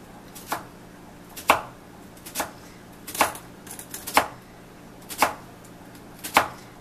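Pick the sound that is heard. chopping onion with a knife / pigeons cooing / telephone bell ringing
chopping onion with a knife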